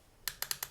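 A Zirc spinner fidget toy clicks five times in quick succession, sharp close-up snaps after a brief quiet start, no talking.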